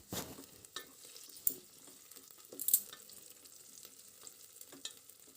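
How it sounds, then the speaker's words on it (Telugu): Moong dal khichdi ingredients frying lightly in a pan, with soft steady sizzle and several sharper scrapes or stirring clicks scattered through, fairly quiet and close, no voices. "వేయించుకోవాలి మరి ఎక్కువ వేగ అవసరం లేదండి కొద్దిగా వేగితే సరిపోతుంది కిచడీకి కాబట్టి"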